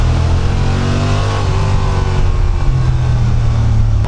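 A Honda Transalp 750 motorcycle on its stock exhaust drones steadily through a tunnel, a loud, continuous engine note with reverberant roar and no talk.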